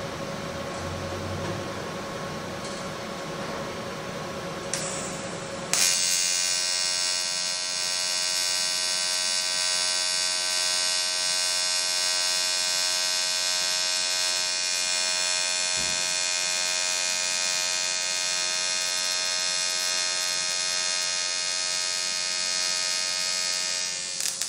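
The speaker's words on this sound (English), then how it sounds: "Very crisp arc." A Lincoln Electric 220 AC/DC multiprocess welder running an argon-shielded AC arc on 6000 series aluminum gives a steady, crisp buzzing hiss with a strong hum. It starts after a few seconds of quieter noise and holds unbroken and close for the rest of the clip, with no talking.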